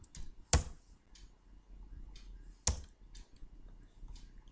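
Computer keyboard keys clicking sparsely as values are entered into a form, with two sharper louder keystrokes standing out among faint soft taps in a quiet room.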